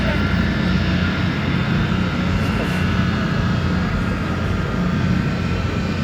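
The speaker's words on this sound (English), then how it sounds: "as the C-17 Globemaster 3 gets ready, we're going to get this started" A C-17 Globemaster III military transport aircraft's engines roar loud and steady, a dense continuous rumble and hiss.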